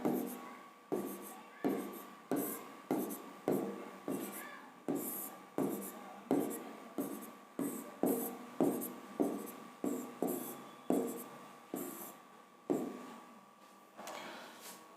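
A pen writing numbers by hand while working out a square root, heard as a regular series of short scratchy strokes about once a second, close and fairly quiet, with no talk over them.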